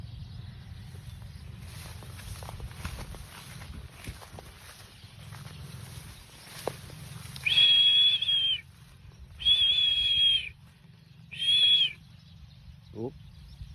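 Birds call over a rice paddy after heavy rain, giving three sustained whistled calls in close succession above a low, steady rumble of outdoor background noise.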